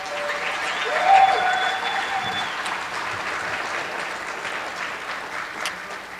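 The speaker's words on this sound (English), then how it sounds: "Let's give a round of applause for the crew and everyone that put this together." An audience at a red carpet retirement event applauds the crew, a dense burst of clapping that swells early and then holds steady to the end.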